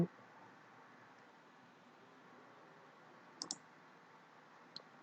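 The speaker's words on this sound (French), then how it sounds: "Si je termine, on va cliquer sur OK" A computer mouse clicking an OK button, two quick close clicks in a row and then one more, all faint against a quiet room hiss with no talk.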